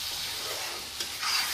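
Chicken pieces frying in hot oil in a home kitchen, a close, steady sizzle with a brief stirring scrape partway through, short and fairly quiet with no talk.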